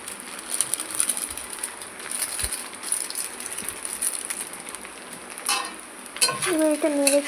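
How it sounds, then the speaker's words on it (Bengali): Pasta being stirred in a pan with Maggi masala for an egg pasta dish: soft, steady scraping and faint sizzling at low volume, with a brief voice near the end. "এবার এটা নেড়ে চেড়ে মশলাটা সুন্দরভাবে মিক্স করে নেব।"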